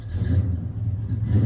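A 1969 Oldsmobile Cutlass W-31 V8 engine rumbles and revs in steady, throaty pulses, a deep low growl swelling and easing close by without any talking.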